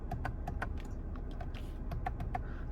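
Aftermarket M1/M2 steering wheel buttons on a BMW being pressed, a series of soft, quick plastic clicks in an irregular rhythm, faint and close.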